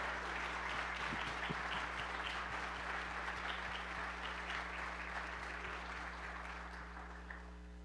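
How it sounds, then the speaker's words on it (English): An audience at an atheist-theist dialogue event applauds for two guests, a sustained, fairly distant spread of clapping over a constant low electrical hum that tapers slightly near the end. "let's give a round of applause to our two guests"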